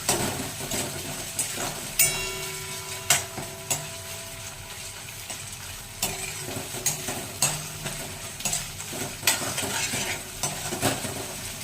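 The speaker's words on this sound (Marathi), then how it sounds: "बघा, कांद्याचा रंग बदलला आहे, तो भाजला जात आहे, भाजला गेला आहे" Onions frying in oil for a festive vegetable dish, a continuous sizzle broken by repeated scraping stirs and clinks of a utensil against the pan, close and without talk.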